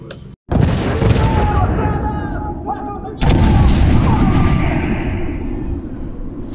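SAM sites blow up in the Project IGI video game: two heavy booming blasts, the second arriving a few seconds after the first, each swelling into a loud, sustained rumbling roar.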